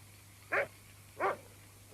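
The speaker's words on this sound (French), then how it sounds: "Ce chien a attrapé un raton laveur." A dog barks three times at night, short evenly spaced woofs about two-thirds of a second apart, moderately distant and faint over a low steady hum.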